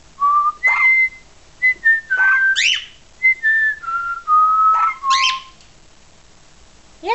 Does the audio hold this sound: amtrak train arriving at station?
no